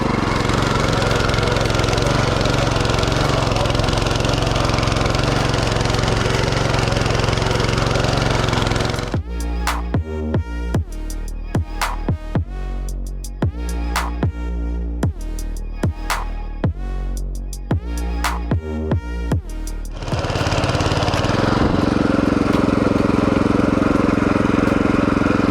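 A Champion BC5712 motor cultivator engine runs loud and close, holding a steady roar, then dropping to a chugging idle with distinct firing pulses before revving back up.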